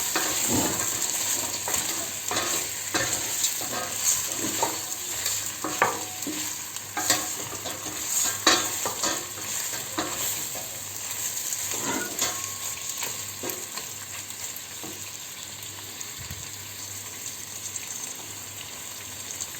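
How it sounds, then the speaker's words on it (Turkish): Chicken pieces for chicken stew sizzle and fry in a pot while a utensil stirs and scrapes repeatedly, the sizzling steady throughout without talk. "kavuruyoruz."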